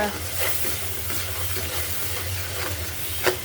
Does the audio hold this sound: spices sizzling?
yes